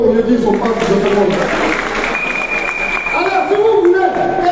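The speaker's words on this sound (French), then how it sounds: "Applaudissez pour eux" Crowd at a political rally in Paris applauds amid shouting voices, the clapping mixed under loud talk and calls from the gathering.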